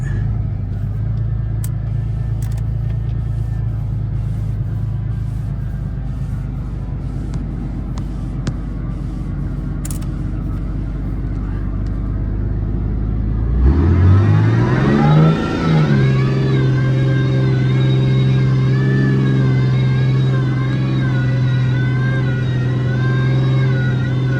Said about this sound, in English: Let's see what she'll do if we only give it up to third gear.